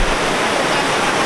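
A river rushes steadily beneath a highway bridge, a loud, unbroken broadband roar of flowing water heard close by without voices.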